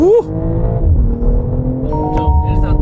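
A BMW M440i coupe with a 48V mild hybrid, in Sport Plus mode with aids off, accelerates hard from a standstill toward 100 km/h. A loud engine roar rises through the gears, heard from inside the cabin.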